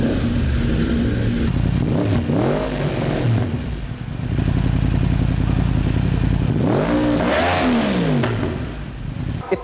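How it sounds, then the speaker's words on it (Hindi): A 2016 Yamaha R1 60th Anniversary sport bike with a Yoshimura aftermarket exhaust, revved hard and close up: a loud sustained engine drone with two sharp throttle blips that rise and fall in pitch, then settle back to idle. "इसके अलावा स्पेसिफिक बाइक में एग्जॉस्ट भी योशिमुरा का लगा हुआ है जो कि आफ्टर मार्केट एग्जॉस्ट है और इससे इसकी साउंड काफ़ी बेहतर हो जाती है।"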